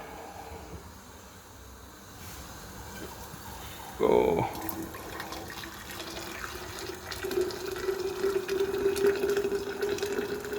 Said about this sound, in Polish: A tutaj woda mi się gotuje.